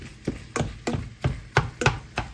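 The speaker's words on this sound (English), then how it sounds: "Just going to use our Pampered Chef little meat masher and kind of keep this in smaller chunks as it cooks" A Pampered Chef meat masher thumps repeatedly against browning ground meat in a pan for taco cornbread bake, about eight evenly spaced, loud, close mashing strokes with no talk.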